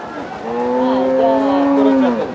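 At a cattle market selling large beef cattle, one animal nearby lets out a single long, loud, low moo that holds steady for nearly two seconds before fading.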